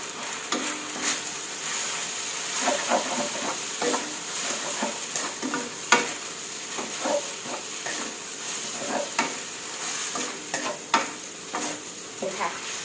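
Glass noodles stir-fried with tomato and seasoning in a pan, with a steady sizzle and hiss under repeated scraping and clinking stirs, heard close and alone with no talking.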